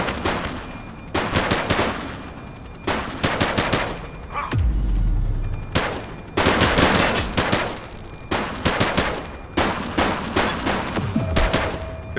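Automatic gunfire in the police video game The Precinct, loud close bursts of rapid shots separated by short pauses, with a deep boom in the middle and no talking.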